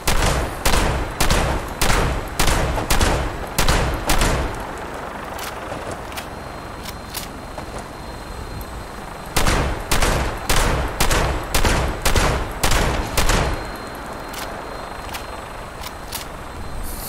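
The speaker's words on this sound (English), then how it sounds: "Shotgun, shotgun." Shotgun fire in Fallout 76, loud and close, in two rapid volleys of about ten evenly spaced sharp blasts each, separated by a quieter stretch of game ambience.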